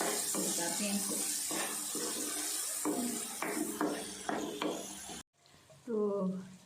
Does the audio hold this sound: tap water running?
yes